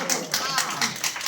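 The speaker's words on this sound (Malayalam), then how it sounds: "ആദ്യം തന്നെ മുത്തപ്പന് ഒരു ക്ലാപ്പ് തന്നെ എല്ലാവരും" A group claps in a regular, even rhythm, about one clap every quarter second, during a Malavazhiyattam ritual honouring Muthappan at the Kuzhikkad tharavad, with voices audible underneath.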